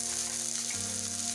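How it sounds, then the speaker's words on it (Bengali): Chopped onion and ginger frying in hot oil in a pan, a soft, steady sizzle heard faintly and briefly, alone without voices. "এগুলো এখন একটু ভেজে নেব।"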